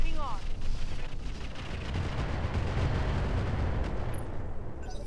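Mech weapons fire in the video game Roguetech: dense rumbling barrages and booms with rolling low thunder, loud and sustained, with a voice speaking over it.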